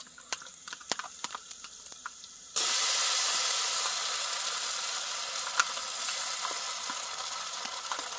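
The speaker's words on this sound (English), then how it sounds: "So our onions are sweating for the cabbage." Onions for a goat stomach and cabbage dish sweat in a hot pan. A soft, steady hiss and sizzle rises sharply partway through and carries on as a constant wash, with scattered faint clicks and taps, and no voices.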